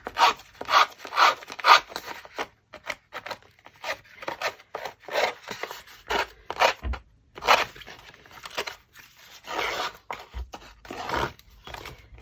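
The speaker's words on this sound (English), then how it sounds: "So I'm just going to get in there with this little blade, do a bit of damage." A small blade scrapes and rasps along the edges of a paper envelope to distress them, in a series of short scratchy strokes with brief pauses between, close up and moderately loud with no talking.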